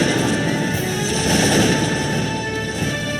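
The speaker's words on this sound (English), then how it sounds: "We are under gunfire." Battle sounds from the strategy video game Cossacks 2 in a Poland versus Russia match: a continuous wash of musket and artillery fire rumbling at mid distance, with faint tonal game music underneath.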